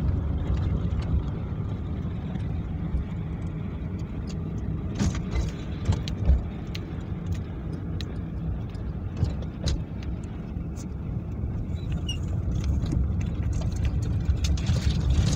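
A car engine pulls uphill during a driving lesson on a hilly road, a steady low drone with rumble and wind noise and a few knocks, continuous and close throughout.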